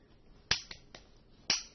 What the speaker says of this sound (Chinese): 自己给自己鼓掌